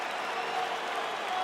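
Arena crowd in the UFC 4 video game cheering and applauding, a dense steady roar of many voices and claps, with no single sound standing out.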